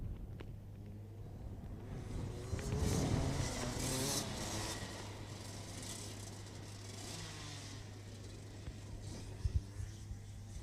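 Rotax Max racing karts on a performance lap during a Rotax Max Challenge heat, heard as a continuous low engine drone and rumble at moderate distance, swelling slightly as they pass.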